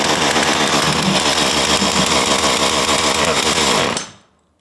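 Chainsaw engine roaring at full throttle, loud and close with a rough rattling buzz, holding steady for about four seconds before abruptly cutting out to silence.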